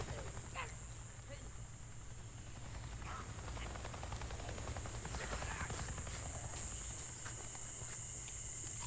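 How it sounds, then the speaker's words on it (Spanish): A helicopter in the game Days Gone drones steadily in the distance, a constant low rotor rumble with a high insect-like whine over it, faint and unbroken beneath soft ambient game sounds. "He visto un puto helicóptero!"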